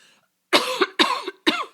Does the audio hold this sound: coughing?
yes